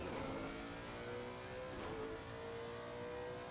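Lexus race car engine revving hard on track at Snetterton, a steady loud mid-pitched roar with rising and shifting tones, heard close and sustained with no talk.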